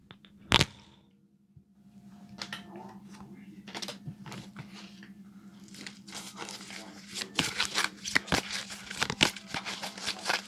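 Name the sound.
shuffling tarot cards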